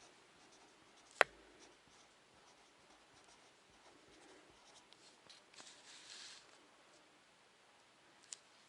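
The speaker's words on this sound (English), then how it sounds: "let's begin by writing the following" Faint, sporadic pen or marker strokes as a math lesson on exponent laws is written out, with soft scratching and light taps scattered across a quiet background and one sharp click near the start.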